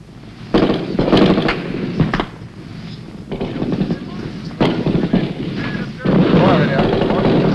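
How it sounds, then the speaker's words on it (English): Vietnam War combat gunfire crackles in loud, sharp bursts and single shots, close and harsh, with a voice talking intermittently among the shots. "Bullets rip through the leaves, and a Marine is hit."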